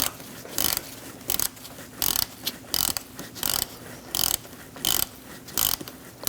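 A socket ratchet with a 1/4-inch to 3/8-inch adapter loosens wheel hub bolts on a 2000-2006 Mini Cooper, giving repeated bursts of close, crisp clicking separated by short pauses, with no talking.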